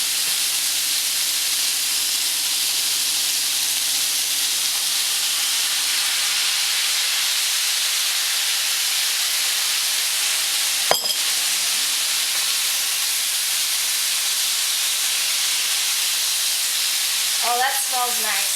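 A cornstarch sauce mixture hitting a hot stir-fry pan gives a loud, steady hissing sizzle that continues for the whole stretch, broken by a sharp knock and a brief squeak near the end.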